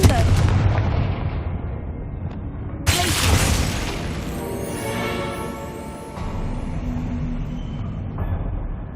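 Confringo fire-blast spell explosion in the video game Hogwarts Legacy, a sharp loud blast followed by rumbling, crackling and ringing tails under continuous game sound.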